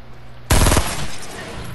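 Burst rifle in Fortnite fires one sharp, loud, close burst of rapid shots that cuts in suddenly after near quiet, then a brief echoing tail fades out.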